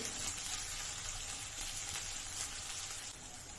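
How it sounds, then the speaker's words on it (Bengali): Onion sizzling in a pan with ginger and garlic paste as it is stirred, a steady broadband frying hiss throughout with no talking. "আদা রসুনের পেস্টটা অ্যাড করে নিয়ে আবারও নাড়াচাড়া করে দিচ্ছি"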